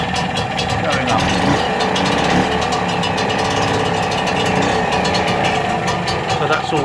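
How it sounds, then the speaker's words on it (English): A Vire 12hp marine inboard engine running at close range, a loud steady mechanical chugging with a brief throttle blip, while someone talks over it. "If I blip the throttle, you'll see the charge going up."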